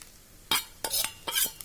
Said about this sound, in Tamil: அடியிலேருந்து எடுத்து கிளறுங்க நல்லா ஈவனாக கிள ஸ்ப்ரெட் ஆயிரும்